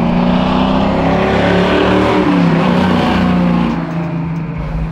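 A 1970 Chevy Camaro with a Flowmaster exhaust drives along, its V8 rumbling loud and close with rising and falling revs through shifts, easing slightly toward the end; no one talks.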